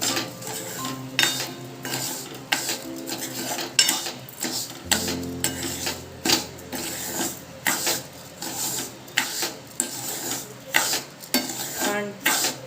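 Semolina and sugar being stirred in a pan while making semolina and coconut pedas, a spoon scraping and clinking against the metal in a steady repeated rhythm, close and fairly loud with no talking.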